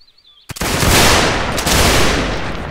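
Infantry line in the Civil War game North and South firing a musket volley, a sudden loud crackling burst of many shots at once with a second ripple, preceded by a brief faint whistle.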